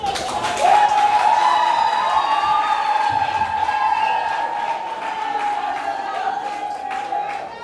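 Guests at a civil wedding clap for the bride, Antoinette Mariette. A loud, sustained high-pitched wavering tone, like ululation or a whistle, rides over the clapping for the whole stretch.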